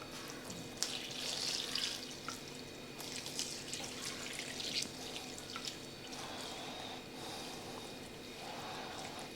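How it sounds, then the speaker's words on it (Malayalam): Warm boiled milk trickles and splashes softly onto slices of bread for a Christmas bread pudding, a quiet, steady pour with small drips, close by and without talk. "ഇനി ആ തിളപ്പിച്ച ചെറു ചൂടുള്ള പാല് നമ്മൾ ഈ ബ്രെഡിലേക്ക് ഒഴിക്കണം."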